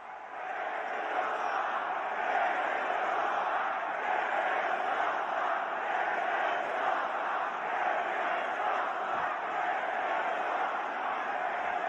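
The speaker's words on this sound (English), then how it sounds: "I really can't make out what the crowd are chanting here" Arena crowd at WWE Raw keeps up a dense, steady chant and roar for the whole stretch, loud and continuous with no breaks.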